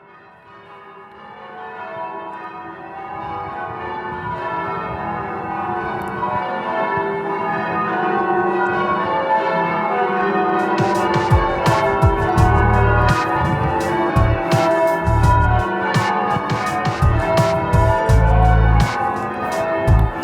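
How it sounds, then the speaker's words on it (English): Church tower bells ring in Bolton up to the heaviest tenor bell, a full, resonant peal that builds in loudness, with rhythmic deep strikes in the second half under an overlapping hum. "there's the heaviest bells that we have in the tower, up to the tenor bell"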